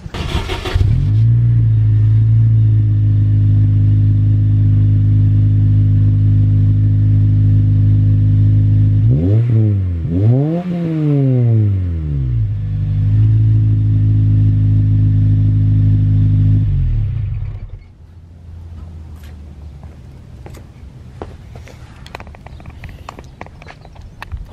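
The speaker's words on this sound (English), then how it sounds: "I'll try doing a startup so you guys can hear what the car sounds like" Acura RSX Type S engine cranks and fires up near the microphone, settling into a steady idle with a couple of rising and falling revs midway, then shuts off, leaving faint ambient noise.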